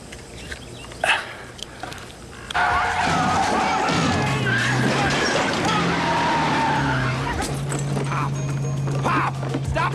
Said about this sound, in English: Stop the car! Hit the brakes, Pop!